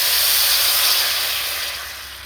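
Coconut sizzles in a hot frying pan while cooking for Jamaican stuffed dumplings, a steady close hiss that eases slightly toward the end.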